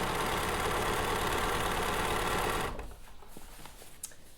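A sewing machine stitches a hem on jeans, running with a loud, steady mechanical whir before abruptly stopping, leaving quiet room sound.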